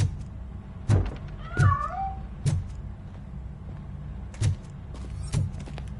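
A cat in the RoboCop video game gives a short meow as it escapes, amid several dull thumps and knocks spaced out over a few seconds.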